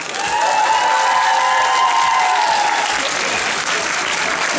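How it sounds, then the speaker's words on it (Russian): Loud, dense applause from a large audience at a KVN comedy festival season opening, steady and sustained throughout with some cheering mixed in. "Аплодисменты Максу."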